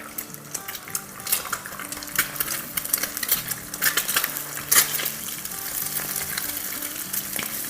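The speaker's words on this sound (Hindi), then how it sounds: "इसमें अब हम 2 अंडे तोड़ के डालेंगे। और अब इसको स्क्रैम्बल कर देंगे।" Two eggs cracked into hot oil sizzle steadily as they fry and are scrambled, with close, scattered clinks and scrapes of a utensil against the pan throughout.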